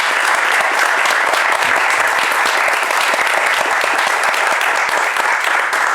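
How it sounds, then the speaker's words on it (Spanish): Warm audience applause at a book presentation, dense and loud with many people clapping continuously for the full six seconds, no voices over it. "un caluroso aplauso para este prodigio"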